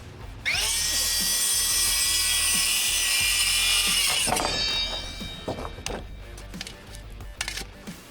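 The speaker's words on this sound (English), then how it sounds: "We measure and we cut a treated 2x10 to fit in between our 6x6 boards." A saw cuts through a treated 2x10 board during a garage build: a loud, sustained whining cut for several seconds, followed by rougher intermittent rasping and knocks as the cut finishes.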